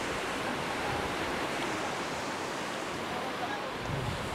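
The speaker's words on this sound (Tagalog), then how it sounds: "Malakas kasi alon eh" Steady roar of ocean surf at a beach in Lian, Batangas, with wind rushing across the microphone, a constant broad wash of noise without distinct voices.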